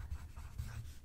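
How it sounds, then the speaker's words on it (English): Pen or pencil scratching across paper in a quiet soft-spoken tutoring setting, a steady close, faint run of writing strokes with no talk. "Should we write it down?"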